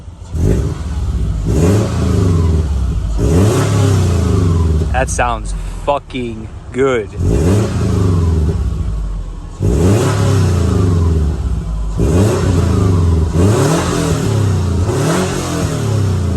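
A naturally aspirated Subaru fitted with a WRX-style exhaust, with no turbo noises, revs hard in a string of loud, close rising bursts, pausing while someone talks before the revving resumes.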